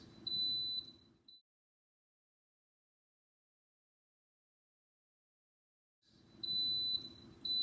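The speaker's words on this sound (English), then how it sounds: "Hear that beep? That means it's starting to build pressure." An Instant Pot pressure cooker, set to manual high pressure, gives a short run of high electronic beeps at the start and again near the end, with quiet silence in between and some background murmur under each burst.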